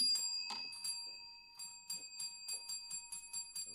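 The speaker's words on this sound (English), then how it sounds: "Ring that bell." A small bell rings with a bright, sustained tone and a run of repeated light strikes, quiet and close, with no talk.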